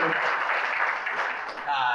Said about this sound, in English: Round of applause for the Rocks.